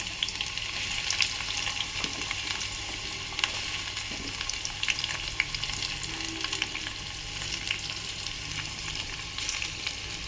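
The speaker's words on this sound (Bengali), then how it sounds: "পেঁয়াজটা ভেজে নিয়ে ফিরছি।" Chopped onions fry in hot oil with garam masala, giving a steady, close crackling sizzle with occasional stirring scrapes throughout.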